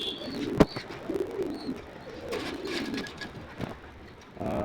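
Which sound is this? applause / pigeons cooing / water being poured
pigeons cooing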